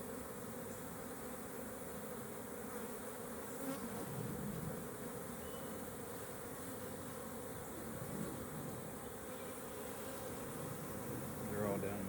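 Honey bees buzz steadily during a hive inspection, a faint continuous hum of many insects close around the open hive, with occasional soft handling noises and a quiet outdoor background.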